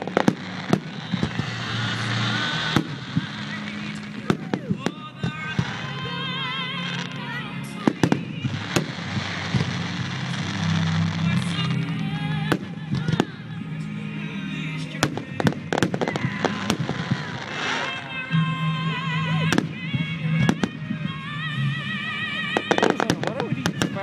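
Fireworks at a Comanche display in 2010 burst and crackle in rapid repeated volleys, loud and close, with crowd chatter and voices running underneath throughout.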